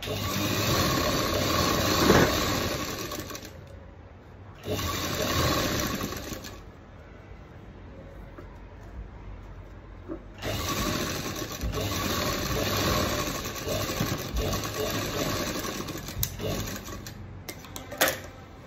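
A sewing machine stitches along the border of a Paithani saree blouse in several runs of steady mechanical whirring, broken by short pauses, close and fairly loud with no talk over it.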